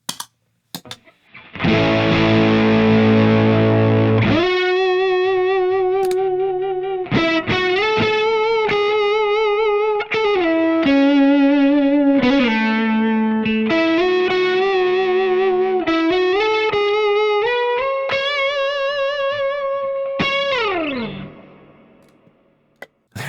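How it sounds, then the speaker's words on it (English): A guitar played through an octave effect pedal on a large pedalboard, thick layered tones with a low doubled octave, sustained chords and melodic phrases over about twenty seconds, loud and processed, fading out at the end. "an octave sound"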